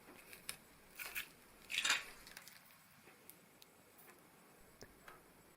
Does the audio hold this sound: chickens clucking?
no